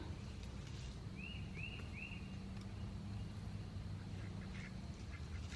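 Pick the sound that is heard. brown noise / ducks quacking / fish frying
ducks quacking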